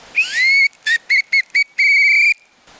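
A shrill whistle is blown up close: one long sliding blast, four short sharp toots, then a final sustained blast.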